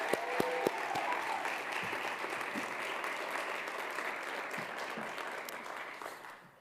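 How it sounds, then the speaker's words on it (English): Sustained audience applause for theater students at a university address, dense steady clapping filling the room for several seconds before tapering off at the end, with no talk over it. "we give another big round of applause for our theater students?"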